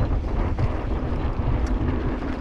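Wind buffets the microphone while someone rides an electric bike, a constant low rumbling whoosh throughout with no break.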